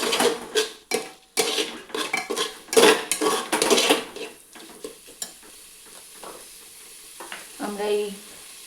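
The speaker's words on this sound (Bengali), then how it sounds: "নুনটা দেওয়ার পর ভালো করে একটুখানি নাড়ানাড়ি করে নিয়ে" A spoon scrapes and knocks against a pot while rice and lentils with salt are stirred for khichuri, giving clattering metallic strokes over a faint sizzle, with scattered talk in the background.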